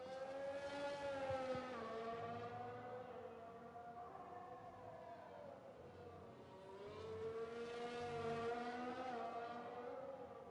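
An F1 race car in the video game F1 2020 drives through the turns of the Hungary circuit. The engine holds a steady high whine that falls and rises again as the car brakes and accelerates, heard alone.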